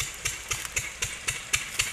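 A small engine running an irrigation water pump out in farm fields, chugging in a quick, steady rhythm of about four beats per second at moderate distance, with no talking.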